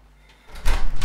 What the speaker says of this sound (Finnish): Voitko tulla nyt avaamaan oven?